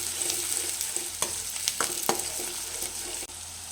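Onions frying in a pan for chicken curry, a steady close sizzle with several sharp crackling pops and stirring scrapes, no speech.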